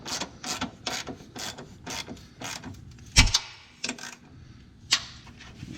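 A socket wrench ratchets a running board bolt on a 2019-2021 Ford Ranger in quick rhythmic clicking bursts, close by, with a few louder knocks and metal taps between strokes.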